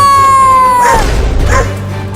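A cartoon dog barks and yelps while chasing a baby goat, two loud bursts following a descending whistle-like tone over a steady musical bed.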